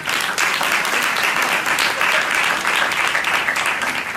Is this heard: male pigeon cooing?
no